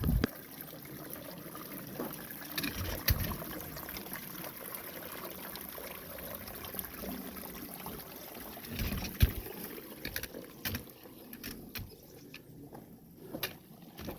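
A mountain stream flows along a Pacific Crest Trail section near Lemah Meadow above Waptus Lake, a steady low broadband wash heard at moderate distance with occasional small splashes and knocks.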